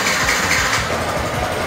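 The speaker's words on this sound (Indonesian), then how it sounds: "suaranya standar kalau R15 karena ini nggak ganti knalpot, jadi suaranya tetap standar seperti aslinya gitu" A stock-exhaust Yamaha R15 motorcycle idles with a steady, even burble, close and moderately loud, with no talk over it.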